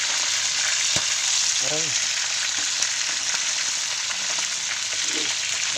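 Food fries in hot oil with a loud, steady sizzle and scattered spits of splattering oil, close up, while a voice briefly cries out over it.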